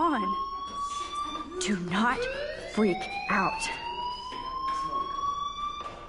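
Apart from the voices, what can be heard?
fire alarm ringing in Life is Strange video game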